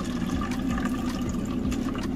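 Water pours steadily into cups holding a fig cutting and clay pebbles, a continuous close trickling and splashing lasting about two seconds.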